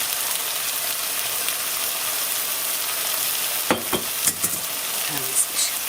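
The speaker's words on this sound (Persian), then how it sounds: "حدود 2 لیوان آب جوش کافیه. من میریزم داخل مایتابه که تمام سبزی مایتابه هم" Boiling water goes into a frying pan of cooked herbs for a squash stew with unripe grapes, raising a loud continuous sizzle with a few louder splashy bursts toward the end.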